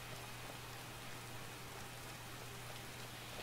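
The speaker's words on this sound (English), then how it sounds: "I wish it would stop raining, it's kind of awful." Rain falls in the Skyrim Falskaar game world as a soft, steady, even wash of patter, faint and continuous with no other sounds.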